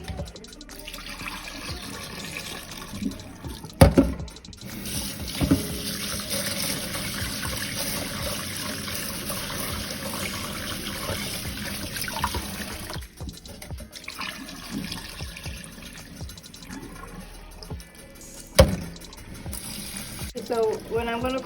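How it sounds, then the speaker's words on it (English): Rice being rinsed in a kitchen sink under a running tap for white rice, with a steady continuous stream of water, splashing and brief clinks of the pot, broken by short pauses. "I'm just gonna be rinsing the rice."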